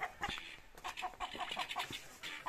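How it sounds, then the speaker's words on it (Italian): Hens in a henhouse cluck in a rapid, repeated run of short calls right after a fox scare, fairly faint and restless throughout. "Guardate dove sono volate le galline."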